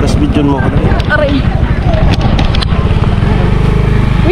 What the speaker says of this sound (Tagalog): Wait lang, may motor.